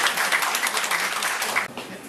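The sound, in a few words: audience applause for a speaker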